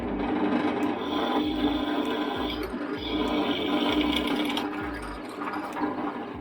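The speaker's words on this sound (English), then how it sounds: "This is the first hole I want to drill, and I have to drill it right through." An 8mm drill bores right through clamped flat steel tubing, close by and steady. A rhythmic mechanical thumping and grinding pulses about twice a second, with no voices.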